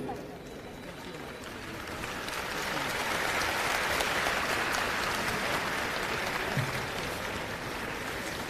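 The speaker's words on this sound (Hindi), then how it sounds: "आपकी तरफ से तालियों का स्वागत वहां से बनता है।" Applause from an audience welcoming pilgrims setting off on a Dwarkadhish pilgrimage, a broad, sustained wash of clapping that swells after the first couple of seconds and holds steady throughout.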